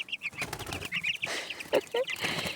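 Broiler chickens hop and beat their wings in short, faint bursts of flapping, mixed with a few soft clucks and chirps, irregular and close by in a quiet farmyard.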